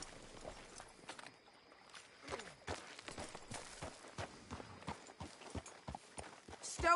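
Steady clip-clop of horse hooves at a trotting rhythm in Red Dead Redemption 2, fairly close, with faint background ambience and a brief louder rustle at the end.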